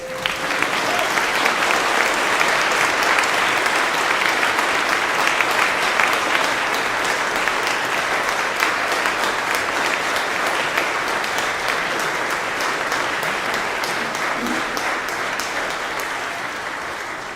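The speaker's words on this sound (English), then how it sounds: "maybe we could have a little round of applause for ourselves" Long, sustained applause from a church audience, dense clapping holding steady at full strength before slowly tapering near the end, with no one speaking.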